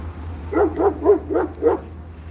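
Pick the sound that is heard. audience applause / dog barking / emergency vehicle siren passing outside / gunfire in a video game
dog barking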